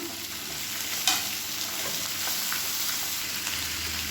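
Onion and tomatoes sauté in a pan for tomato chutney, giving a steady close sizzle and frying hiss with one sharp clink of a spoon against the pan and soft stirring scrapes.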